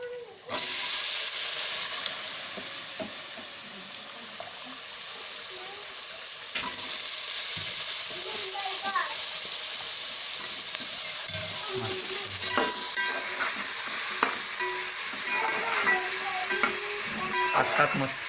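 Boiled mixed vegetables tipped into a hot pan with kurma masala, sizzling loudly and steadily as a spoon stirs and scrapes, near and continuous with no speech.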